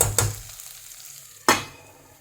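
Potato and capsicum pieces sizzle in a hot pan as a spoon stirs them twice, each stir a sharp scrape and burst of crackle over a soft steady fry, with no voices.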